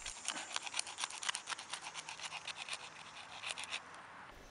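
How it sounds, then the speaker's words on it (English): A flint scraper works over charred wood while a spoon is shaped without metal tools, producing quick, soft scratchy strokes in a close, fairly faint rhythmic series that stops near the end. "The antler knife works reasonably well for scraping off the charred wood, but I think the flint scraper works a lot better."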